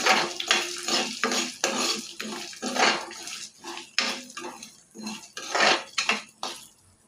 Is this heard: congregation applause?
no